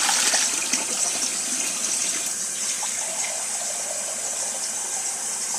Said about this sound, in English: 7 1/2 cups of warm water from your tap